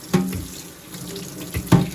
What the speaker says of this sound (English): Just rinsing out the basket